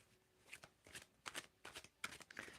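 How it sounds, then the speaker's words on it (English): Tarot cards being shuffled by hand, a quiet run of repeated papery riffling bursts in an uneven rhythm, close up with no talking. "When do I need to stop shuffling here, Matu?"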